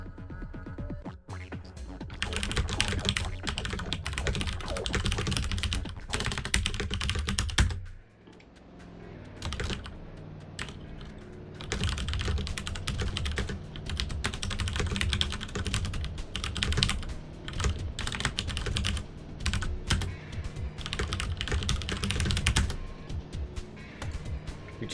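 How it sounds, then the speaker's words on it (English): Rapid, busy typing on a computer keyboard while chatting during a game stream, dense clattering keystrokes in bursts with a brief pause, fairly close and continuous. "Typing in chats during streams."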